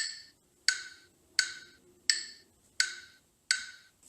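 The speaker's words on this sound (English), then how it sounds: "And now, let's say there's a 3/4 time signature." Steady ticking from a metronome app set to 3/4 time, six sharp evenly spaced clicks roughly 0.7 seconds apart, close and clean with nothing else playing.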